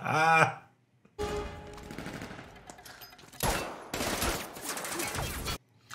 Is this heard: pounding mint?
no